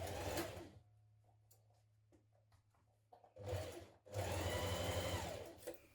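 Sewing machine stitching the shoulder seams of a dress, running in two loud sustained bursts with a quiet pause of small clicks and handling noise between them, close and alone.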